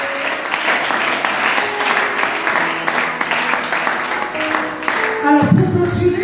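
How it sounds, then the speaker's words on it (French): A church congregation claps and cheers in praise, dense continuous applause with voices mixed in, ending in a louder burst of cheering. "On va acclamer encore le Seigneur."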